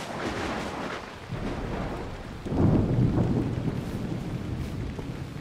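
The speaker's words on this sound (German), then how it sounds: "Sturm voraus!" A storm in the video game Assassin's Creed Odyssey brings steady rain hiss with low rolling thunder that swells midway and keeps rumbling to the end.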